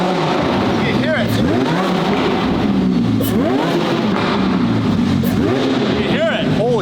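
A supercharged Lamborghini engine revs repeatedly up close, loud rising and falling throttle blips with sharp swoops in pitch, while excited voices talk over the roar.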